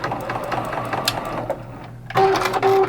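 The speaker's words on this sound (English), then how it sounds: "I'm just gonna go over to my sewing machine and I'm just gonna sew really close to that edge" A computerized sewing machine stitches right along a fabric edge for machine binding, a steady mechanical whir that pauses briefly before resuming louder and close by, with no talking.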